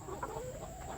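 Laying hens on an Indonesian egg farm cluck softly in a dense flock, a continuous low chatter of overlapping clucks under steady barn noise, with no talk.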